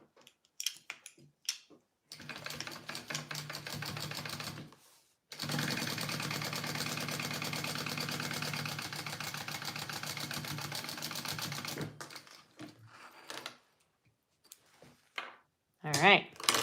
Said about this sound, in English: we're going to sew across that